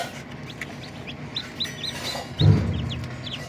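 Desi hen chicks freshly hatched in a homemade incubator give soft, high peeping chirps in a quick scattered series, faint over a low background rumble with a brief louder thump near the end.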